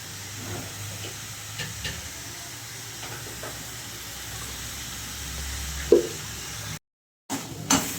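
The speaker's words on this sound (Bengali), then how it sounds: "গাজরগুলো দিয়ে আর একটু ঘি দিয়ে আমি এটাকে এখন নাড়াচাড়া করবো" Carrots frying in ghee hiss and sizzle steadily in a pan, with a low hum underneath, occasional stirring scrapes and a brief dropout near the end.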